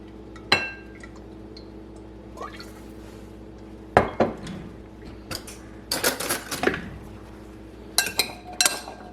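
Radishes tossed with olive oil in a bowl make irregular clinking and rattling knocks, with bursts of jostling clatter and small wet sounds in a quiet kitchen.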